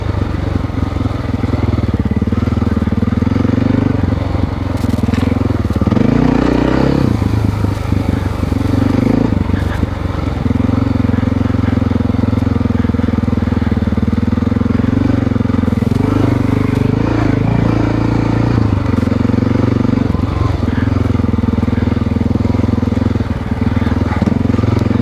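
A Honda XR600R dirt bike being ridden along a trail, its single-cylinder engine droning loud and close with a steady throttle, brief revving shifts and wind buffeting throughout.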